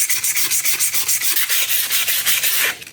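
Sandpaper scrubs rapidly back and forth along a steel bolo blade in a restoration, producing loud, close, rhythmic rasping strokes at an even pace with no talking.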